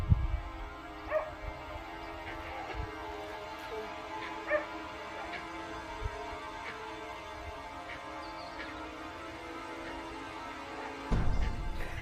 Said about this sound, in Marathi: कुत्रा तर भोगतोच आहे कुत्रा भोगतोय